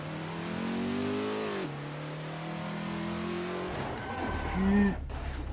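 A car in a racing video game revs its engine with rising and falling pitch, then its tires skid and squeal briefly near the end, heard fairly close and steady with no talk.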